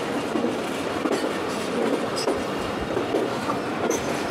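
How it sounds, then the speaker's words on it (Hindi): A train rounds a curve and switches tracks near the India–Pakistan border, its wheels keeping up a steady rumbling clickety-clack with brief metallic squeals, continuous and fairly close, with no talking. "और ये ट्रेन मोड़ काट रही है, ट्रैक को चेंज कर रही है।"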